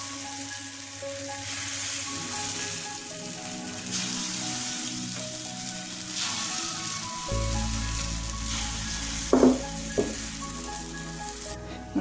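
Mini pizza batter sizzles and fries steadily in a pan, a constant bright crackle with a few brief clinks and scrapes near the end; no one speaks.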